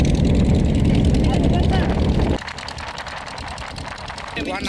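A motorboat engine drones loud and close during a river boat ride on a Shivaratri trip, its steady throb dropping in level partway through, with voices faintly over it.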